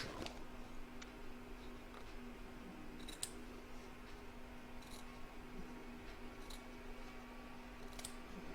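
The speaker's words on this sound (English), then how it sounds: "I'm now going to trim away the excess fabric" Scissors snip through excess fabric on a stitched snowman coaster in a quiet room, with a handful of sharp, faint cuts spaced irregularly over a steady low hum.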